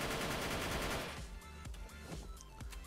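Gunfire in a shooter video game: a dense, loud burst of rapid shots at the start that cuts off after about a second, followed by scattered fainter shots and clatter in the background.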